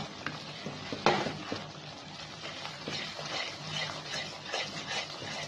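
Semolina and milk powder stirred together in a pan, with soft repeated scraping and rustling strokes of a spoon against the metal and a faint sizzle underneath, close by and unbroken by talk.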